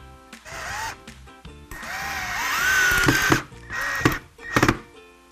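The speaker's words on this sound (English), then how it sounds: "drill 2 pilot holes first, and then we're going to drive our screws in" A power drill bores pilot holes and drives screws into wood for a small desk caddy, the motor whining up and down in several bursts of varying length separated by short pauses, close and loud.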